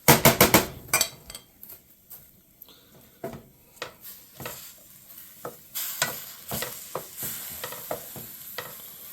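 Onions cooking down in a pan for pierogi filling give a low sizzle under irregular wooden-spoon knocks and scrapes against the pan, loud and close, with no speech.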